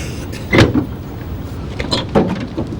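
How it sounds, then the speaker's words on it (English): A door being opened indoors in a comedy scene, a few muffled thumps and a scraping rattle against a quiet room background. "will you open the bloody door?"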